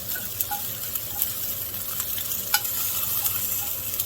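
Asparagus sautéing in a pan alongside tomatoes, stirred by hand. A soft, even sizzle runs underneath light, irregular taps and scrapes of the utensil, and nobody speaks.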